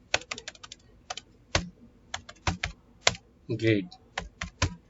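Rapid, uneven clicks of C++ code being typed on a computer keyboard, close and crisp, arriving in short bursts with brief pauses, with a single spoken word partway through.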